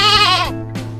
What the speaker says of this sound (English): This is a real lamb.